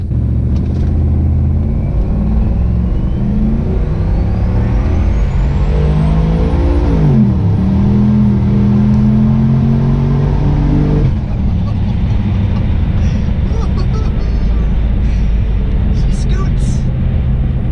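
A Cadillac Escalade with a BTR Stage 3 turbo cam accelerates hard, its V8 rumble climbing in pitch through a gear, dipping at the shift, then rising again before easing off; loud and close inside the cabin.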